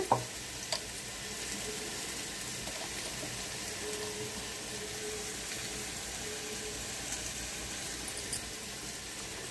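Onions fry in a pan for a Godavari pulasa fish stew, giving a steady close sizzle and crackle with a few soft clinks of a utensil near the start and end.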